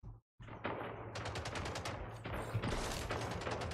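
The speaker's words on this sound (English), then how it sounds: "It's the battle rifle." Battle rifle gunfire in the Splitgate video game, a dense sustained stream of rapid shots after a brief gap at the start, loud and continuous throughout.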